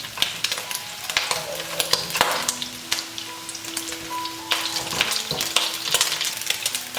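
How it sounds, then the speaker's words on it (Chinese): Pork ribs frying in hot oil in a wok, turned so both sides brown, with a steady loud sizzle and crackle broken by scraping stirs and utensil clinks, no voices. "排骨我们翻动一下，把2面都煎到金黄"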